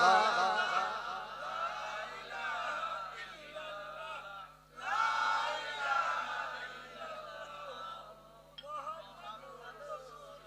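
A crowd at an outdoor Bengali religious sermon gathering chants takbir in loud, swelling unison, with waves of voices rising and falling over about ten seconds.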